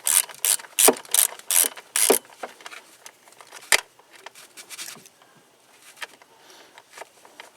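Ratchet wrench clicks while a screw is driven back in during a spark plug change on a Ford F150 5.4: rapid bursts of close metallic clicking that fade into lighter, sparser ticks, with no talk.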